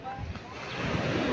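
Sea surf rolling onto a beach during a seaside outing, a steady broadband wash with wind buffeting the microphone and a slight swell in loudness.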